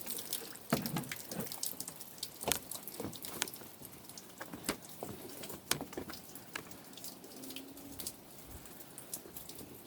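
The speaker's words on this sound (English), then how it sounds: "Put a little water in there." Water trickles and splashes from a garden hose while golden quartz is being crushed, a steady wet hiss broken by sharp intermittent knocks and clatters, close by with no talking.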